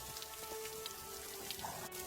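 Rain falling in a cartoon scene, a faint, continuous patter of drops with a low steady hiss underneath, with no voices.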